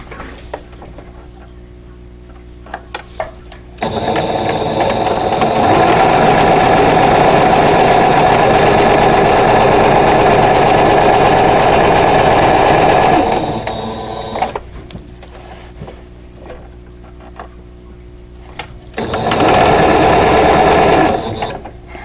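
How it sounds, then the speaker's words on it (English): A sewing machine stitches a quarter-inch seam on a vintage Single Lily quilt block in two bursts: one long steady run of rapid whirring, a pause, then a shorter second run, loud and close. "we'll sew 1/4 inch away from both sides of that drawn line"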